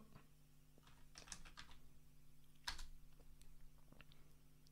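Quiet, close keystrokes on a computer keyboard as a password is entered on a Lenovo M700 desktop running MX Linux, a short uneven run of clicks with one sharper tap.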